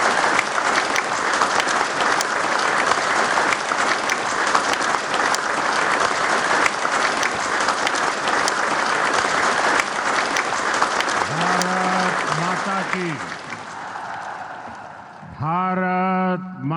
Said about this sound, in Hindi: तालियों से स्वागत करें माननीय प्रधानमंत्री जी